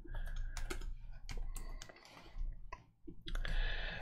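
Rapid clicking of computer keys being typed, bursts of keystrokes with brief pauses, close and fairly clear, no voices.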